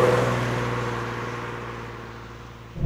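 A 2015 Infiniti Q60S engine hums steadily at close range, a low sustained tone that slowly fades before a brief rise at the very end.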